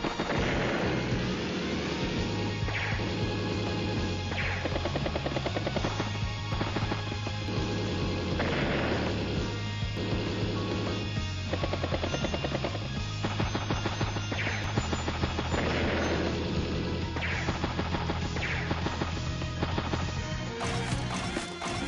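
A Duster aircraft attacks a battlecopter in Advance Wars: Days of Ruin, rapid gunfire and explosive hits rattling over a steady synth music track with a repeating bass line.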